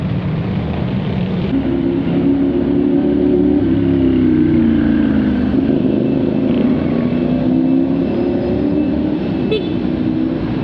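A broken-down motorcycle that refuses to start, being tried by the roadside in Mabang Parang; a steady, loud engine-like drone with shifting low tones runs throughout, without clear speech over it.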